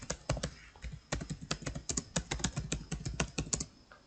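Rapid typing on a computer keyboard, close and clear, with sharp key clicks in quick irregular bursts and short pauses between words.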